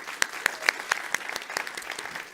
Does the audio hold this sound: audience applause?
yes